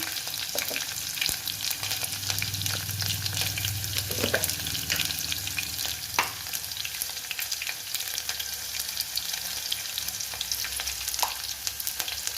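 Onion roasting in a pan with a pinch of turmeric, a steady close sizzle of frying with occasional stirring scrapes, continuous throughout with no voices.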